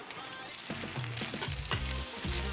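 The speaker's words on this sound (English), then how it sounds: "we're just going to drop our Spam, and we want to get everything kind of crispy" Spam, shallots and garlic frying in a hot pan for a Cajun loco moco, a steady close sizzle with scraping, clattering stirring strokes coming in quick bursts.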